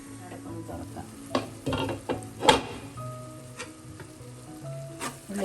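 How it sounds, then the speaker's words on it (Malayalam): Sliced onions sauté in a pan for a Kerala-style chicken curry, a low sizzle under soft music, broken by a few spoon scrapes and a sharp metallic clank midway. "വീണ്ടും നമുക്ക് അടച്ച് വെച്ച് 1 മിനിറ്റ് കൂടെ ഒന്ന് വഴറ്റും"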